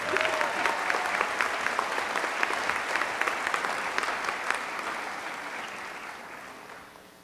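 Graduation audience applause for the 2018 honors program graduates at a Central Methodist University commencement, dense even clapping from a large crowd that slowly tapers in volume over several seconds.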